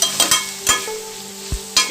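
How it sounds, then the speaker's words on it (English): Vegetables for lo mein being lightly sautéed in a pan, a handful of sharp utensil knocks and scrapes spaced irregularly over faint sizzling, close and fairly loud, no talking. "I'm just going to slightly saute them"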